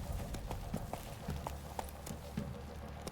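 Horse hooves clip-clop at a steady trotting rhythm in The Witcher 3, a series of close, distinct thuds repeating over a low background hum.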